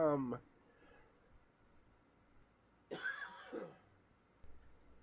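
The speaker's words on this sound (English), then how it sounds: "I'm going to cough there" Two short coughs from a woman, one right at the start and a sharper, louder double cough a few seconds later, close to the microphone with quiet room tone between.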